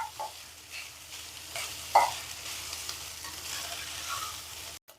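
Cooked rice is stirred and fried in a pan over a low flame for a Tamil home lunch. A soft, steady sizzle runs throughout, with a spatula scraping the pan now and then, close and unaccompanied by talk.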